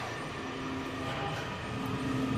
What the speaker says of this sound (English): There goes a 7000 series train.